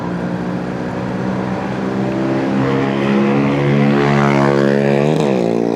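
A fast vehicle roars past on the road with a loud, rising engine note and a sharp pitch drop near the end as it goes by, heard from a riding motorcycle.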